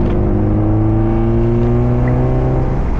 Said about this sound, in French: il y a un vrai son de Porsche. C'est-à-dire c'est un son qui est grave.